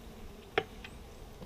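Honey bees hum faintly around an open hive in spring, a low, soft buzzing drone with one brief closer pass, quiet and without speech.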